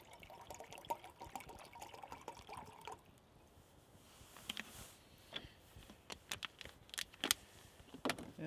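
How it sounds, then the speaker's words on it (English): Water, 16 ounces, is poured into a pot on a stainless steel alcohol camping stove outdoors, a soft liquid pour at first followed by scattered drips and light clinks, quiet and close. "Just pour the water in."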